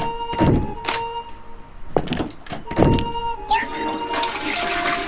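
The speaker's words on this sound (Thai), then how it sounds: "ชักโครกดังเอง" Toilet flushing in the horror game Amayado Bus Stop, a rushing water burst that swells after a few dull thunks and keeps running loud and close to the end.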